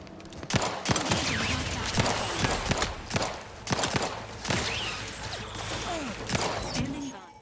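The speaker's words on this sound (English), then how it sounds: "Triple barrel shotgun." A triple barrel shotgun fires repeatedly in The Outer Worlds 2, with sharp, loud booming blasts in quick irregular succession amid game combat noise and clattering impacts.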